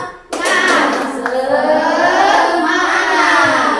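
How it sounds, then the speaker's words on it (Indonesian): A primary school class in Indonesia doing a spirit clap together, a sudden loud burst of many small hands clapping close by that keeps going in a busy, overlapping patter with children's voices mixed in. "Tepuk semangat."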